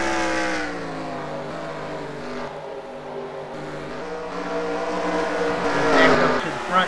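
Stock race cars circle Bristol in a loud, sustained roar of engines that swells and fades as they pass, with a commentator talking over the racing.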